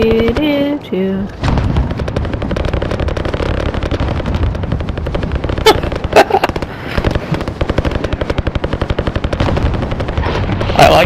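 Video-game gun firing in long, fast automatic bursts, loud and close, with dense repeated shots and a few sharper cracks, and a voice heard briefly at the start.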